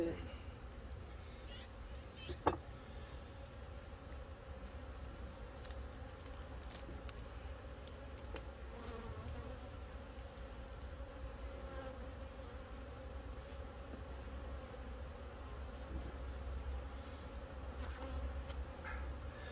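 Honeybees buzz steadily around open hive frames during hive care, a dense continuous drone close by, with a brief knock early on and people talking in Korean over it.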